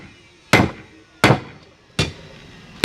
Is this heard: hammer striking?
yes